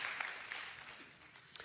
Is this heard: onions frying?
no